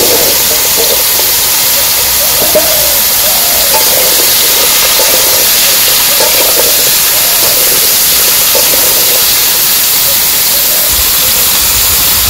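Vegetables sizzle loudly in hot fish oil in a pan while a village-style fish curry is cooked, a dense, steady hiss that fills the whole stretch with faint stirring beneath.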